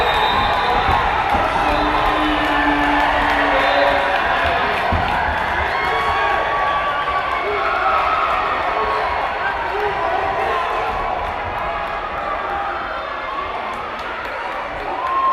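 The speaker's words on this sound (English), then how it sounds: "And boy, the crowd goes electric." A basketball game crowd erupts in sustained cheering and shouting after an alley-oop dunk, a dense, steady roar of many voices filling the gym for the whole stretch.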